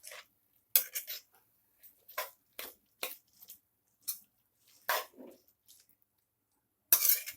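A spoon stirs carrots in boiled milk in a pan for carrot halwa, making sparse, soft clinks and scrapes in irregular bursts against a quiet background.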